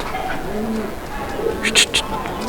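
Soft, low coos from a male and female pigeon pair murmur close by, joined near the end by a few brief, sharper chirps.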